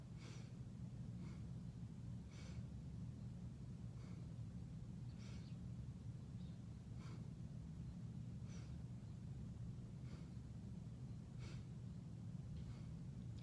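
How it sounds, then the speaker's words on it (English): Shallow, quick breaths drawn high in the chest at the collarbones during a yogic breathing exercise, repeating softly about every second and a half over a steady low background hum. "I want you at this point just to focus on a shallow breathing of your collarbone"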